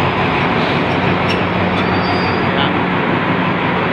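An Alstom train at the new Rangsit station gives a loud, steady rumble of rolling wheels and running gear throughout, with a short spoken word from a man near the start.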